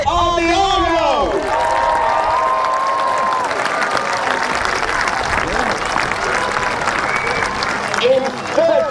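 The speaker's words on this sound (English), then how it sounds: "ladies and gentlemen, a round of applause" A crowd at a castle jousting tournament breaks into sustained applause with some cheering after a knight's score, broad clapping holding for several seconds as an announcer speaks over it at the start and end.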